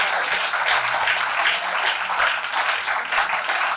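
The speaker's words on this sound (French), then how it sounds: "Merci de m'avoir applaudi." A church congregation applauds in a dense, fairly loud burst of clapping that runs steadily for several seconds with faint cheering mixed in and no clear speech.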